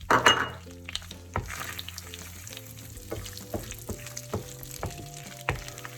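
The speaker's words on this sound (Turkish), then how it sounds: "Yağım eridi. Şimdi fıstıklarımı, dolmalık fıstıklarımı ilave ediyorum ve kavuracağım." Pine nuts sizzling in melted butter in a pan, a soft steady crackle with repeated clicks and light scrapes as they are stirred, close and moderately quiet with no talking.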